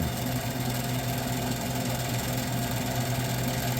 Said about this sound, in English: the condenser fan blades may need to be balanced